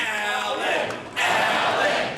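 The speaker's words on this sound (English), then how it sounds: "whipping up the already excited crowd that filled the downtown Marriott ballroom" Excited crowd at a Republican political rally in a downtown Marriott hotel ballroom, a loud roar of cheering voices that swells into a second surge, with some speech mixed in.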